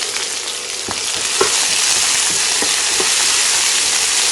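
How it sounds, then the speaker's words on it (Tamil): Thickly sliced onions sauté in a pan for a tomato gothsu side dish, giving a steady, loud, close sizzle with a few soft stirring knocks, and no voices. "வெங்காயம் இந்த அளவுக்கு வதங்கினா போதும்."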